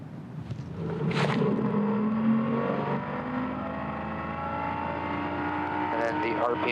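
A helicopter in flight during rotor balancing work, its steady droning engine and whirring rotor noise continuous and fairly loud throughout, with muffled voices occasionally speaking over it.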